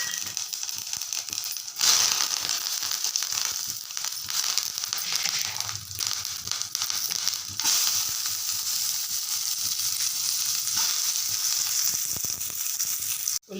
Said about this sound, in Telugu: నూనె వేడెక్కిందండి. తాలింపు వేసేస్తున్నాను అందులో.